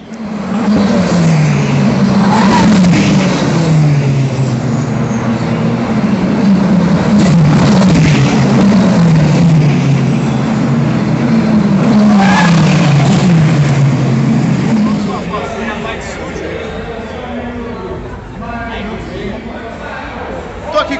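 Brazilian Formula 4 race cars howl around a circuit, their high-revving engines rising and falling in pitch through repeated gear changes as they pass. The sound is loud and sustained, then fades toward the end.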